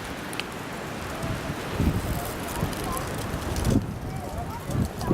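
Strong wind blows across the peak of Seoraksan mountain in South Korea, a steady rushing roar with buffeting gusts against the microphone, moderately loud throughout.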